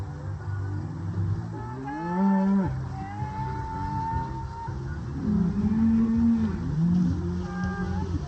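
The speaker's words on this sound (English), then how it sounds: "The cows have been loving it out here, and they're always so excited to move to a new paddock." Cows moo on a farm in late summer as they are moved into a new paddock, several long low calls rising and falling at mid distance over steady outdoor background noise.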